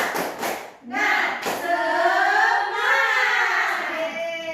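An elementary classroom of sixth graders performs a rhythmic spirit clap together, a few sharp claps followed by children's voices chanting in unison, loud and close.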